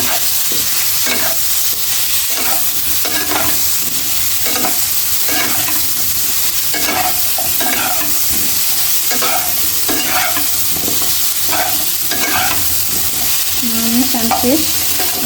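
Pumpkin with turmeric, salt, chili powder and green chilies fries in hot oil in a kadai, giving a steady loud sizzle with rhythmic stirring scrapes throughout.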